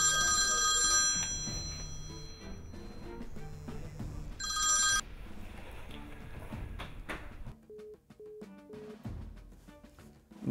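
A telephone rings during a call, a loud bright electronic ring in two bursts with a short gap, set over busy background music that carries on after the ringing ends.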